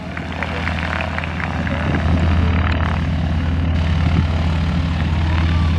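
Old propeller biplanes take off at the Flying Circus Airshow in Bealeton, their engines droning loud and near with a deep steady rumble that swells slightly as they power up, with brief faint voices at times.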